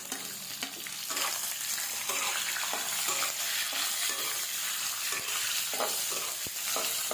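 Steady crackling sizzle of onions sautéing in a pan, with occasional scraping stirs, close and continuous with no talk.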